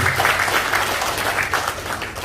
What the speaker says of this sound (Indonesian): Tepuk tangan buat PTBes, Bapak Ibu.